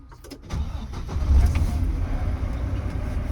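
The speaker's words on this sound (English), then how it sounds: "I'm gonna safe start my vehicle" Truck engine starting in a driving-school vehicle with air brakes, a short starter whir and clicks followed by a low, rumbling idle that settles into a steady drone, close and fairly loud.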